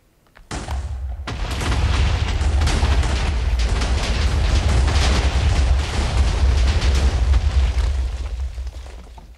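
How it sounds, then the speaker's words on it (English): A large TNT blast in Minecraft sets off a loud, sustained roar of overlapping explosions that rumbles for several seconds before tapering off. "here's the TNT set for the next explosion"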